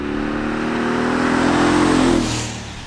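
The engine of a 2020 Mercedes-AMG G63 revs loudly and close by, with a deep rising roar that swells for about two seconds and then drops away as the throttle is released.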